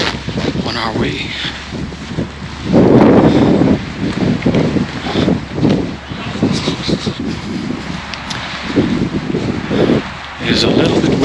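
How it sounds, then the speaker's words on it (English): Wind at the start of the South Kaibab Trail in the Grand Canyon buffets the microphone in loud, rumbling gusts that rise and fall, with a person talking throughout. "It is a little bit windy."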